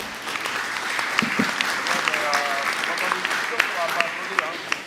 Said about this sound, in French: j'aimerais quand même qu'on applaudisse Jean-Michel pour la présentation qu'il vient de faire